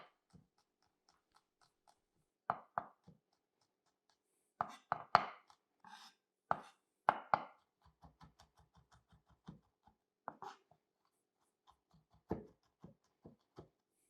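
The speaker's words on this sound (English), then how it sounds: "So do that to all your cloves and then chop them up fine." Knife chopping garlic cloves finely on a cutting board, quiet bursts of quick rhythmic taps separated by pauses, close and alone with no talk.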